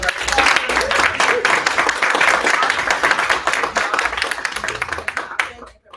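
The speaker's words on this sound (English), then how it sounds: "can we just give a huge round of applause for all of our sponsors" A crowd of attendees at a gaming pitch competition event applauds its sponsors with dense, steady clapping that stays loud throughout before thinning out at the very end.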